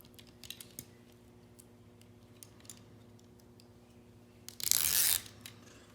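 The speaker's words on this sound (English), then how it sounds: "let's go ahead and remove our tape. Or remove not the tape, but the plastic covering the tape" Plastic film peeled off adhesive tape on a window trim applique of a Tahoe, Yukon, Escalade or Suburban: faint clicks and handling over a low hum, then one short, loud tearing rip near the end.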